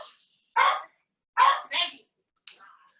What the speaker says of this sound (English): Looks like our dog she's interested in something.